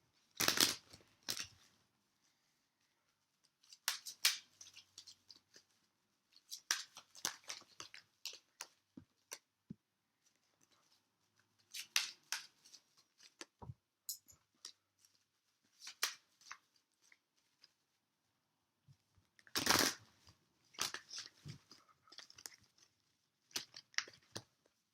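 A deck of cards is shuffled at a tarot-style card reading, giving crisp riffling and snapping bursts with quiet gaps between, close up and fairly soft, with no talking.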